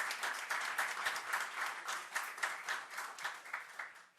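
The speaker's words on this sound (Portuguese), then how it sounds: "uma salva de palmas para o Dalmo." Dense audience applause fills a public plenary session hall in Osasco, a steady wash of many hands clapping at moderate level that swells and fades slightly over a few seconds, with no speech over it.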